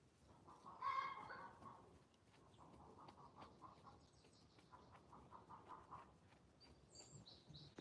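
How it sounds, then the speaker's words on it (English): Chickens cluck and bok around a farmyard, with one louder burst of clucking early on followed by softer, scattered calls over a steady murmur of background noise. "Chicken's chickening around."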